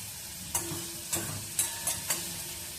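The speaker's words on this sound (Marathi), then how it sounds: "तेलामध्ये कांदा एकदम तुम्ही बघितलं असेल एकदम क्रिस्पी होईपर्यंत ब्राउनिश होईपर्यंत फ्राय करून घेतला" Chopped onions fry in hot oil until crispy and brown, a steady sizzle with five sharp scraping stirs in an even rhythm, close and moderately quiet, with no voices.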